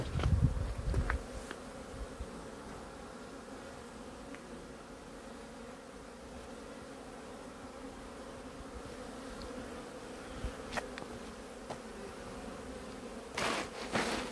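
Honey bees fly around the hives at an apiary on a cool day of about 12 degrees, a steady buzzing drone that lasts throughout, with a few brief knocks and clicks.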